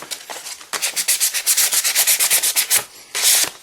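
A Tootsietoys die-cast toy is hand sanded in close, brisk back-and-forth strokes, a rapid rhythmic rasping that pauses briefly near the end and then resumes.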